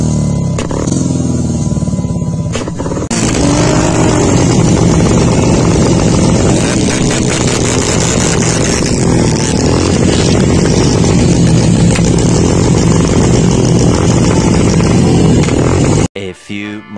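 A motorcycle engine held at high revs, loud and steady for about sixteen seconds with wind buffeting, stopping abruptly near the end; a voice is faintly present.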